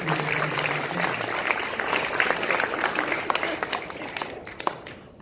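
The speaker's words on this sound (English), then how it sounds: "A nice round of applause, boy," Audience applause at a stand-up comedy show, a steady wash of clapping from a crowd that holds fairly loud throughout and thins out near the end.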